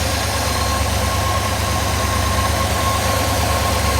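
A 1956 Ford Thunderbird engine idling nearby, steady and low, smooth and unchanging with a faint mechanical hum, no voices.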